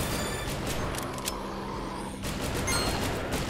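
Rapid gunfire from the Dead Containment co-operative arcade-style zombie shooter, a dense continuous burst of game shots running through the whole stretch with a brief dip in the middle.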